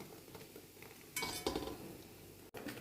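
Paneer and ginger in butter and oil are worked in a pan, with faint sizzling under clinks and scrapes of a metal utensil against cookware, quiet and close.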